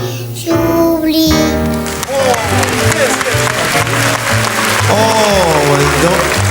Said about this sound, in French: On va l'applaudir très très fort.